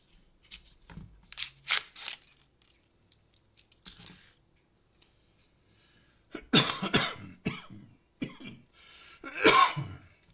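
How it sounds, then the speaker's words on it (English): Several harsh coughs and throat clearings come in bursts, close to the microphone, separated by quiet pauses. "Sorry about the coughing today."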